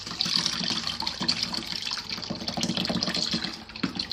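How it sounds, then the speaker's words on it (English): Homemade zobo, a sorrel drink, is strained through a sieve with a steady close trickle and patter of liquid that runs without a break and no voices. "You have to sieve very well so that the particles does not go with it."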